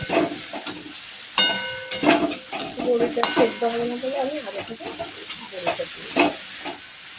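Notey greens chorchori with peanuts, bori and potato is stirred in a sizzling pan, a steady hiss of frying broken by repeated scraping stirs and clinks, with faint background sounds.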